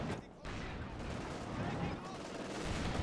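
MG42 machine gun fire in Company of Heroes 2 rattles in quick bursts amid a dense wartime battle din of other gunfire and explosions, under a commentator's talk.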